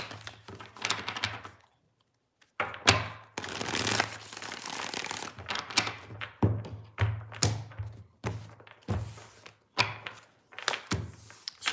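Tarot cards shuffle close by in repeated riffles and soft thuds of the deck being tapped together, forming a loose rhythm of short bursts with brief gaps and no talking.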